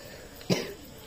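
A single short cough bursts out close by against a quiet background and ends at once.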